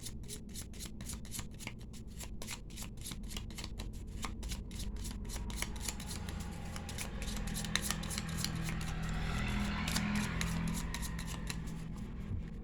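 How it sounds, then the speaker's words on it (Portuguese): Tarot cards are shuffled by hand in a rapid, repeated riffling rhythm, close and fairly quiet, the flicking growing denser and softer toward the end. "Embaralhando aqui pra gente."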